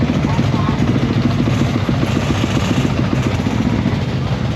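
A motorcycle engine running with a loud, close, pulsing rumble that stays steady and throbbing from start to finish, the rider speaking briefly over it.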